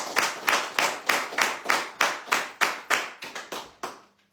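Hand clapping from an audience at a radio bistro show, a steady run of about a dozen sharp, fairly loud claps in a regular rhythm, speeding up slightly near the end before stopping.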